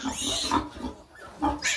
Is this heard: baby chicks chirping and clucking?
no